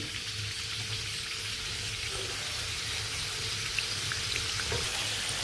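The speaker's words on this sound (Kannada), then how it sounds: "ಒಳಸಾಕಿ ನೋಡ್ರಿ ಎಣ್ಣೆ ಒಳಗೆ ಫ್ರೈ ಆಗೈತಿ" Stuffed karchikai, a North Karnataka sweet, frying in hot oil, giving a steady, low, continuous bubbling sizzle with faint crackles, close and even throughout, no voices.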